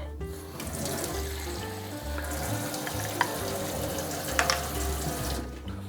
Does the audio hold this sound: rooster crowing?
no